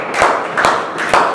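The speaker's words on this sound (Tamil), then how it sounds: "இந்த வார்த்தையை கைத்தட்டி ஆண்டவருக்கு நன்றி சொல்லுவோம்." A church congregation claps their hands together in three loud, evenly spaced bursts of many palms at once, each ringing briefly in the room.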